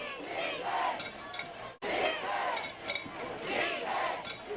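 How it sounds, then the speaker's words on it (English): Jasper Vikings home-side crowd cheering at a high school football game against Sipsey Valley, sustained shouting and roaring from the stands in rolling waves, with a brief dip in the middle before it swells again. "Of course, a great crowd here on the home side."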